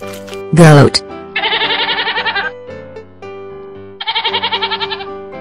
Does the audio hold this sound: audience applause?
no